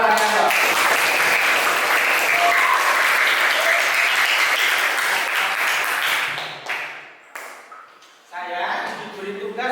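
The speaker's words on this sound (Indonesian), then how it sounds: "Tepuk tangan oleh kepada Pak Arianto." Students in a junior high classroom applaud their teacher with loud, dense clapping for about six seconds, which then thins out and fades as a voice begins speaking.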